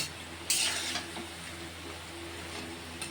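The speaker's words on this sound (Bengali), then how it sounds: "লাল লাল করে ভেজে নিতে হবে" Jute leaf fritters deep fry in hot oil with a low, steady bubbling hiss, broken by a brief louder splash of sizzle near the start and faint occasional clinks.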